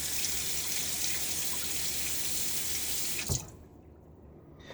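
Water runs steadily from a tap while a safety razor is rinsed under it, a continuous close hiss that cuts off abruptly, leaving near silence.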